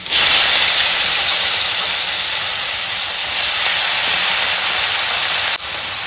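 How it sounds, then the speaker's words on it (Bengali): Chopped onions fry in butter with a loud, continuous sizzling hiss that fills the whole stretch with little variation, dipping briefly near the end. "পেঁয়াজগুলোকে ভেজে নেবো একটু ভালো করে, লাল লাল করে।"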